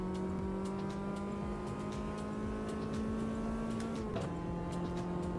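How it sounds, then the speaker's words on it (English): A race car in Automobilista 2 drones on an engine loop at steady revs, with a tonal hum and sharp regular clicks ticking through it, and a slight pitch dip near the end, with no talking. "There's an annoying click in the engine loop sound."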